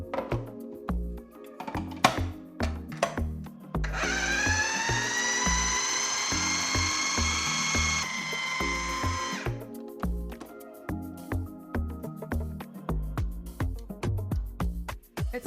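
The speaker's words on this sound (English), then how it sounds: "So now that all the ingredients are in the food processor, we're gonna blend it all up, make it into the batter" A food processor blends protein blondie batter, first in short choppy pulses, then a sustained high motor whir for several seconds, then back to bursts of pulsing, close and loud without any talk.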